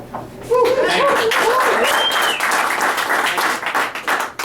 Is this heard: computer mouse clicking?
no